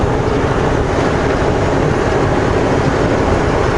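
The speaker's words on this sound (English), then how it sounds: "put the throttle to the floor, just gingerly" A vehicle with its diff locks engaged, throttle floored as it struggles for grip in snow: a loud, steady, dense engine roar that holds without a break for the whole stretch, no voices.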